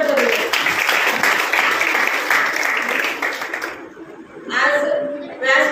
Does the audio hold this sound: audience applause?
yes